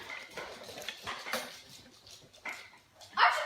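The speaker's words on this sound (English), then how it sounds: "You want to see my dog?" A pet dog gives a few faint, scattered yelps and whimpers indoors, with light clattering in the background and a sharper bark near the end.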